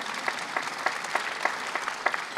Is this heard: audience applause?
yes